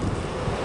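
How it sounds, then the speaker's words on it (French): Blustery outdoor wind buffets the microphone in a steady, loud rumbling roar with no other sound over it. "Donc il y a du vent aujourd'hui"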